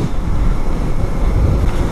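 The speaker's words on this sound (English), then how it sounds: "It's very windy." Steady, loud wind buffeting a microphone while riding through open country, a continuous low rumbling roar with no breaks and no talk.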